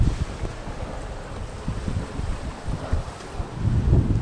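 A sailboat under way in open wind, with steady wind rumble over the microphone and low wash of water against the hull, continuous and close, with no talk.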